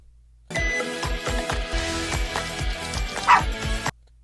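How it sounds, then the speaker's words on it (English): Dogs bark and yip in short bursts over a busy, echoing background, starting abruptly and cutting off just as suddenly, with one sharper, louder yelp near the end. "Why did we bring the dogs to drop Barbie off at the airport?"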